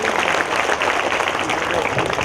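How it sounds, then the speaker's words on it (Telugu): Loud, sustained applause from a gathered audience at a volunteers and organisers event honouring a catering team, a dense continuous wash of clapping with a voice faintly mixed in. "ఒకసారి గట్టిగా చప్పట్లు కొడదాము"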